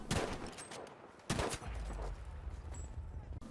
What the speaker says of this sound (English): the number 4 in Battlefield 5 is absolutely gorgeous and even sounds like the real thing